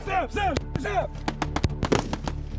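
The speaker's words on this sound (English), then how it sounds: "most confronting is the sound of gunfire at such close range" Sharp, loud gunshots crack at close range in rapid, irregular bursts, mixed with shouted voices over a low mechanical drone.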